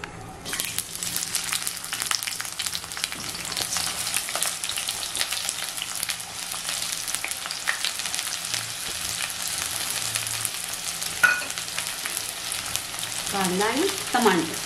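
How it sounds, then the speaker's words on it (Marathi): Onion fries in four to five spoons of oil in a pan for a simple prawn rice, a dense crackling sizzle that holds steady throughout with occasional stirring knocks near the end. "आता आपण आहे ना ह्याच्यात कांदा टाकतोय."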